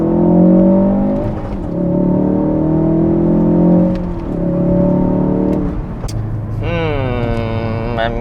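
A Ford Focus RS fitted with a Mountune quick-shift revs through the gears, with three loud rising engine pulls separated by brief drops at each shift, then a lower steady drone and a higher whining rise near the end.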